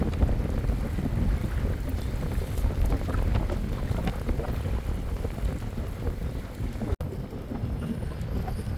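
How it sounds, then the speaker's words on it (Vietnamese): Strong wind buffets the microphone on an inflatable boat drifting down a river, a loud, continuous rumbling roar with gusty swells and water movement beneath it. "gió mạnh lắm mọi người, nước chảy cũng mạnh nữa"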